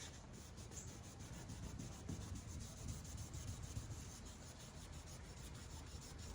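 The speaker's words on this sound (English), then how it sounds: "I'm trying to fake having a sanding block by using my entire finger, not just fingertips." Wet sanding a scratch in the paint of a brand-new car, with a whole finger pressing the abrasive like a sanding block, makes a faint, close, rhythmic rasp of repeated rubbing strokes.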